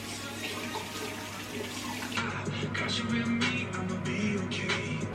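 Shower water running steadily in a holiday tower stay on Lefkada, Greece, a soft continuous hiss with brighter splashing that picks up midway, heard alone at moderate distance.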